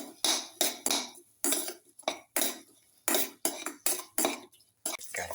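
A spoon stirs cumin carrot basmati rice with salt in a pan, producing a quick series of close metallic clinks and scrapes in uneven bursts with short pauses between.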